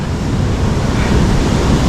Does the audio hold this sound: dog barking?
no